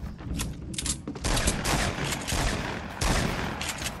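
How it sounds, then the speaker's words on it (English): Dense video game gunfire rattles almost nonstop in rapid overlapping bursts and volleys, loud and close, with a few brief dips between barrages. "Yo, someone else is shooting at them."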